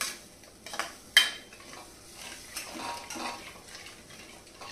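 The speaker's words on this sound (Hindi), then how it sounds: "2 से 3 चम्मच दही और लगातार चलाते हुए दही को पका लेंगे" Curd masala cooking in a pan while it is stirred continuously, faint scraping strokes with a sharp utensil clink early on, soft and close with no talk.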